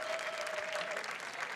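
An audience at a school fundraiser breaks into a dense, even round of applause, steady and moderately loud from start to finish.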